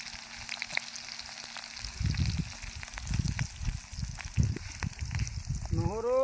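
Chopped onion frying in a pan for a chicken and kol posola dish, a steady close sizzle with crackling bursts and occasional stirring scrapes.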